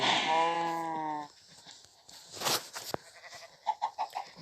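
A sheep in the Minecraft video game gives one long, wavering bleat, followed by a few sharp clicks and soft scattered game sounds.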